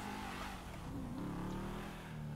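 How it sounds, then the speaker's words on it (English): Performance car engines in the video game GTA V, a continuous droning, revving roar that rises and shifts in pitch, close and loud with no talk. "I hear performance engines"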